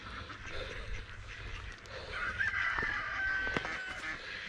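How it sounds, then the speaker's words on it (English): Ducks quack and call outdoors amid a noisy, bustling background, with several overlapping bird sounds rising toward the end. "There's a lot of ducks around here, a lot of noise."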